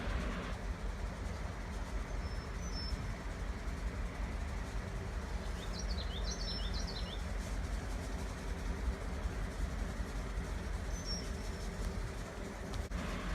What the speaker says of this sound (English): The train has now arrived at Amerhart Lumber Company in Williamsburg.